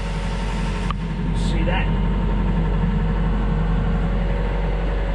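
A Yanmar 4JH3 marine diesel engine idles at about 1500 RPM while warming up, a loud steady low rumble with a constant hum, and someone speaks briefly over it.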